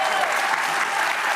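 Dense, continuous audience applause, a loud sustained wash of many hands clapping with no break across the short span.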